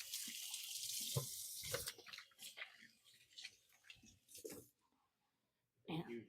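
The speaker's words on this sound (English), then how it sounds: "Let me give my hands a quick rinse." A kitchen tap runs as hands are rinsed beneath it, a close, splashy rush of water that breaks into uneven spatters and pauses, then cuts off and briefly resumes.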